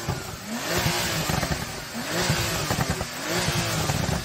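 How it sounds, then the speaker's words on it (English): A Porsche 911's engine revs up in repeated bursts, loud and close, with rising and falling pitch sweeps and a clattery mechanical edge between blips. "Maybe now you can rev up your car."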